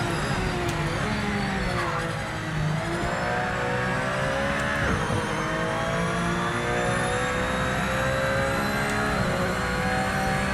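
Several race cars run together in the sim racing game Rennsport, their engines droning loud and steady throughout with shifting revs and overlapping whine, and no talk over it.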